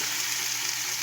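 Chopped tomatoes sizzle steadily in a hot pan while being stirred, a close, continuous bright frying hiss with no talking.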